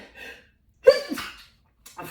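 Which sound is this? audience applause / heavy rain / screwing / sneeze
sneeze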